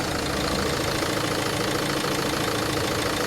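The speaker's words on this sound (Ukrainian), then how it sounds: "Так працює двигун." A Renault Master-type van engine idles steadily throughout, a dense, continuous rumble with a slight knocking texture and no voices.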